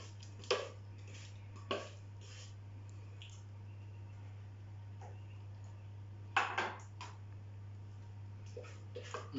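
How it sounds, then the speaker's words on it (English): A utensil scrapes melted chocolate from the bottom of a pan in a handful of short, separate scrapes and clinks over a steady low hum, quiet and close. "I'm really going to try and scrape out the bottom of that pan to get all the chocolate out."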